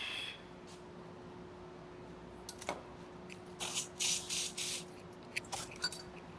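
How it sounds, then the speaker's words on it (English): Brake cleaner sprays in several short bursts onto a part of a 36-year-old Foxbody Mustang, preceded by a faint click and a quiet hum, crisp and close. "let's clean this up with a little brake clean"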